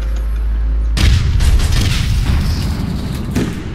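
A loud explosion in the online shooter APB Reloaded bursts in abruptly after a low rumbling hum, then rolls into a dense, crackling boom with scattered debris-like pops that slowly fade.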